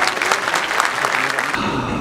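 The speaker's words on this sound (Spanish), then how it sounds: "Nosotros les vamos a brindar para todos ellos un fuerte y cariñoso aplauso." A crowd at the swearing-in of a municipal council breaks into sustained, dense clapping that holds steady and then thins slightly toward the end.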